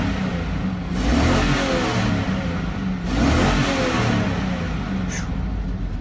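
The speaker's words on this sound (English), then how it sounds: "We're gonna give it a couple revs, see how everything sounds." A 2004 Chevrolet 6.0 LS LQ4 V8, mildly upgraded to about 325 hp, idles and is revved twice on a test stand, each blip swelling into a throaty roar and then settling back to a deep idle.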